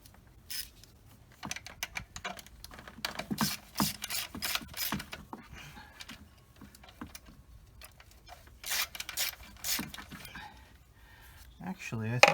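A ratchet working on 10 mm bolts in a 2017 Lexus RX350 engine bay, with bursts of rapid clicking in several runs, close and fairly quiet, and someone talking at times.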